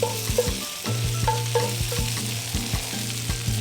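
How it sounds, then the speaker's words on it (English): Peppers and onions, cooked until a little charred, crackle and sizzle loudly in a hot pan, with repeated scraping strokes as they are pushed to one side, close up with no talking. "so now we're gonna push our peppers and onions to the side, make room for the fish"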